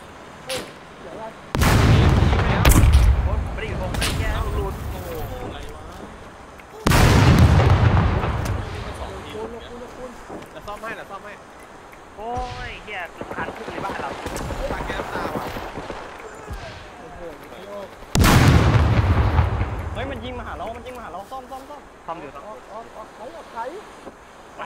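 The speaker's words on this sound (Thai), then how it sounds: "เฮ้ยมีคนยิง" Several loud, booming bursts of gunfire from the survival video game SCUM cut in at intervals, each fading into rumbling decay, while people talk over the action in between.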